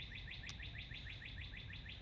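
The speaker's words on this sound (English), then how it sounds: "I think this bird specifically knows I'm talking right now, and I think it's literally making that noise to talk over me" Outdoors, a bird repeats a quick, even chirp about five times a second, faint and steady over low background rumble, with one brief sharper click near the start and no talking.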